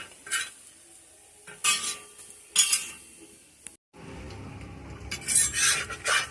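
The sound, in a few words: crispy tiffin scraped and frying in a pan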